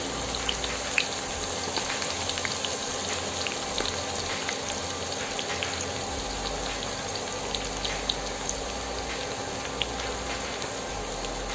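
Chopped onions fry in hot oil with whole spices while beef tripe bhuna is being cooked, giving a steady, even crackling sizzle that runs on without pause and without talk.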